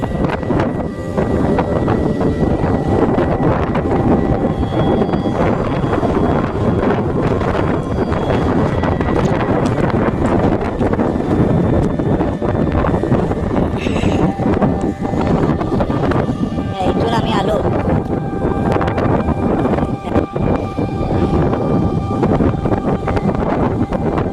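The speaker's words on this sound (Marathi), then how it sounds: "वाऱ्याचा आवाज तुम्हाला इथे नक्कीच येत असेल एवढा वारा आहे की पूर्णपणे मला हलवत आहेत" Strong gusting wind at the Badami cave temples in Karnataka, buffeting the microphone with a loud, continuous low roar that never lets up across the whole stretch.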